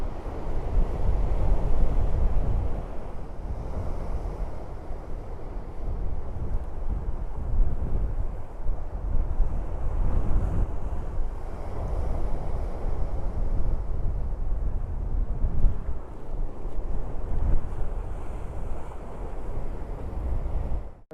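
Strong, gusty coastal wind roars continuously against the microphone at a beach in Saranda, Albania, with a low rumble of surf beneath it and no voices.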